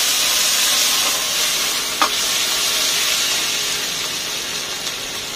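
Garlic stir-frying in a wok for chilli chicken at a Chinese food van in South Delhi, a loud steady sizzle and hiss with a brief scrape of stirring, no voices.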